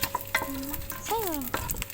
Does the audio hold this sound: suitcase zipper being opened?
no